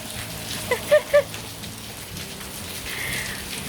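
Rain falls steadily on a surface outside a rural home, a constant broadband hiss throughout with a few brief louder drips or knocks near the start and no talk.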